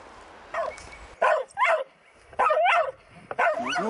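A German hunting terrier barks in sharp, yelping bursts during an artificial den work test, several close, loud barks coming in irregular clusters with short gaps, no talking over them.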